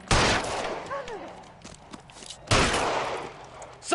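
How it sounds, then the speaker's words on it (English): Gunfire in the video game LA Noire: two loud bursts of rapid shots, one at the start and one midway, separated by quieter game sounds and a voice. "Stop shooting at me."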